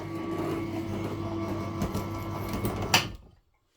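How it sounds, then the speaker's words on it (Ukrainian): A 250 kg electric hoist running on a load-lifting test, a steady mechanical whir and rattle with a brief clunk before the motor stops and goes silent. "В нас тут імпровізація, як працює тельфер на 250 кг."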